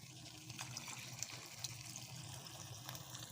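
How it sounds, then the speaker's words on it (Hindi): Half a kilo of water poured into a pot of aloo matar curry in a home kitchen, a steady soft gushing trickle held close for a few seconds with faint clinks and no talk. "इसमें हम आधा किलो पानी लगाएंगे।"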